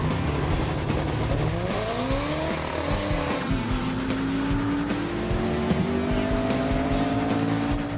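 A race car screams past at high speed, engine pitch climbing through gears, with faint tire squeal and other cars droning in the background.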